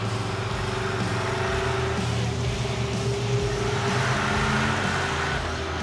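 A lightweight Stubby Bob hot rod pulls away in first gear, its engine droning steadily and loud from close inside, with a constant low rumble and no voices over it.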